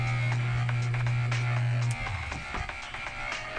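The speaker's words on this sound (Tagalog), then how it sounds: "Electric fan." An electric fan hums steadily and loudly with a low drone for about two seconds, then cuts off, leaving quieter room noise and a few soft clicks.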